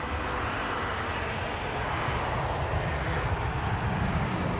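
A Cathay Pacific Cargo airplane at London Heathrow Airport gives a steady, broad engine roar, loud and continuous throughout with no talk.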